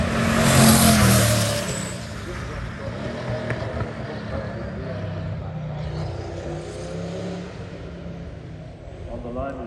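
A Lotus 47D race car revs on the start line at the Shelsley Walsh hill climb, its engine loud at first and then settling into a steadier drone, with a commentator talking over it throughout.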